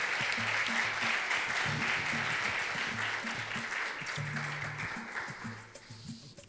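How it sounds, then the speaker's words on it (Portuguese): An audience at a panel discussion claps steadily for several seconds, the applause gradually thinning and fading at the end. "Então, uma salva de palmas para ela."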